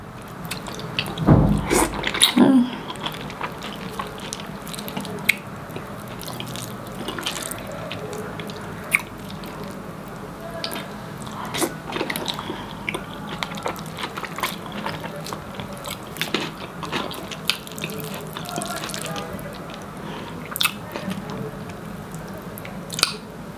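Fufu with vegetable soup eaten close to the microphone in an African food mukbang: soft wet squishing, chewing and smacking sounds with a few drips, quiet and continuous, after a louder handling bump at the start.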